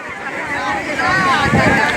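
A boat moves across the open sea, a steady broadband rush of wind, water and engine noise with crowd chatter mixed in, growing slightly louder toward the end.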